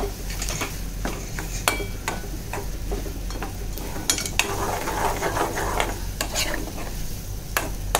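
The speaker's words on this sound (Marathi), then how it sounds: "वाटण छान आधी परतून घ्यायचं." Ground masala paste fries in oil for a cashew curry while a spoon stirs it, with a steady sizzle under repeated scraping clicks of metal against the pan, close and continuous.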